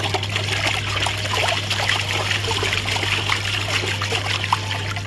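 Water trickles and drains steadily through a fine mesh net while separating daphnia from rotifers, a continuous close dribbling splash over a faint constant hum.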